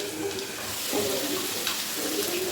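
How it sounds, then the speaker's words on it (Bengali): Potatoes fry in a pan with a continuous soft hiss of sizzling oil, steady and close, while a voice murmurs faintly over it. "আলু ভাজাও বসিয়ে দিলাম"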